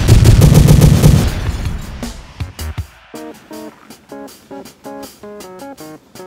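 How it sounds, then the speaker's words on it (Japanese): Gasoline set alight explodes in the horror game Scary Teacher, a loud crackling burst that fades within a second, followed by sparse game clicks and tonal beeping effects. "爆発するもん。"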